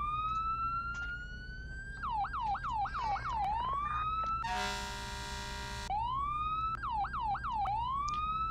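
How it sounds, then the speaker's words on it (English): Modded police siren in the Flashing Lights game: a loud, close wail rising and falling, then rapid yelp cycles, a harsh buzzing air-horn burst midway, and more fast yelps with no talk. "Like I said, I changed out the siren."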